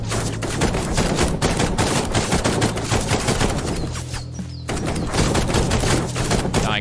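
Rapid automatic gunfire from an Uncharted-style action video game, loud sustained bursts of shots with a short lull partway through before firing resumes, no voices over it.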